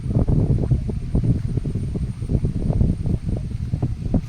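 Steady wind blowing across an open rocky hill, a continuous low rushing buffet with gusty fluctuations, loud and close, no voices.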